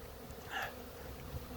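Honey bees buzz outdoors on the last warm autumn day in late October, a faint, steady hum with one brief closer pass midway and no talking.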